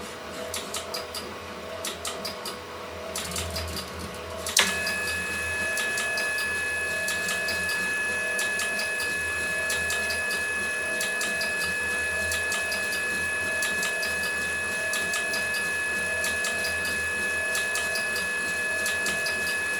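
Coil winding machine running during a demonstration, a steady mechanical whir with rapid regular ticking and a high tone that starts partway through, continuous and close with no speech.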